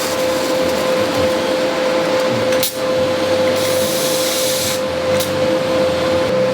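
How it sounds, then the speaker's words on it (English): Steel joints on a pannier rack for Milwaukee Packout tool boxes are welded, a loud, steady close-up hiss and buzz with a high whine running through it, briefly cut off once and then resumed, with no talking. "So I'll go ahead, we'll have four joints to weld up."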